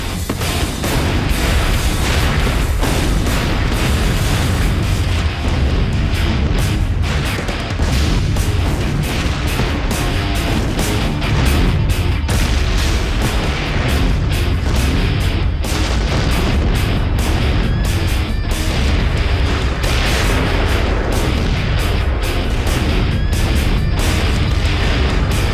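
Oxyacetylene canister plant in Texas blowing up: a long barrage of loud, repeated booms and sharp bursts as acetylene tanks explode one after another over a continuous roaring background.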